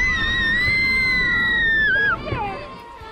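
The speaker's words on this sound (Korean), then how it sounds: "아이들을 태운 놀이기구가 순식간에 아래로 떨어지자 즐거운 비명이 터져나옵니다." Children shriek with delight as an amusement park drop ride plunges on Children's Day, a sustained high scream from several voices over crowd noise that breaks off abruptly and then fades.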